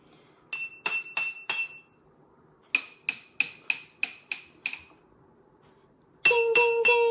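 Bright glassy tings struck on water-filled glasses in quick groups: four, then seven evenly spaced, then a final run of lower, fuller ringing tones.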